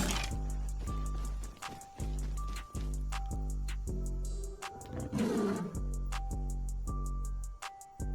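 A tiger in the survival video game Rust gives repeated loud, growling roars in a steady pulsing rhythm, close and clear, with game ambience underneath and no talking.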